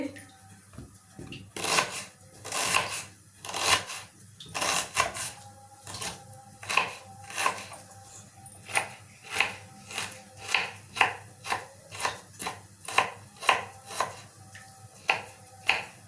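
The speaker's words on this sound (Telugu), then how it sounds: "ఉల్లిపాయ సన్నగా కట్ చేసుకోవాలి" A knife finely chops onion quickly and steadily on a cutting board, with sharp regular taps continuing throughout over faint background music.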